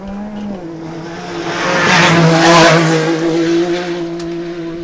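A UTV race car passes during a Yellowstone Off-Road Racing and Ultra 4 off-road event in Broadview, Montana, its engine roar swelling loudly as it nears and then fading away beneath a steady drone.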